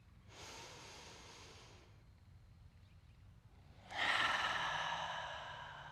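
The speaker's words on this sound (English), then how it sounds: "Exhale that heat. Inhale the nourishment. Exhale the heat." Deep yoga breathing during a foot and ankle routine: a long slow exhale, a quiet pause, then a louder, fuller breath, close and soft with no talking.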